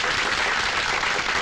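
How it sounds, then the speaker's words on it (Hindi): A brief burst of group applause welcoming a new boss in a company office, dense clapping with no voices over it. "तालियां"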